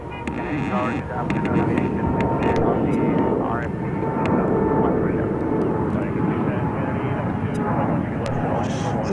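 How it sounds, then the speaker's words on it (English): A passenger airliner arriving at JFK airport from San Juan, a loud continuous roar of engines rumbling close by, while someone talks over it. "Flight 2204 arriving to JFK from San Juan."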